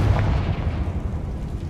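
A Confringo blasting curse goes off in Hogwarts Legacy inside a decayed catacomb, a heavy, rumbling explosion that rolls on with dense low-end boom for over a second and a half, loud and without speech.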